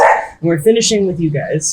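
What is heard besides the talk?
neighbor's dog barking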